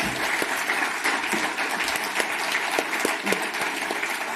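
Sustained audience applause after an open education conference keynote, dense and steady throughout, with a few louder claps standing out near the front and faint crowd murmur beneath.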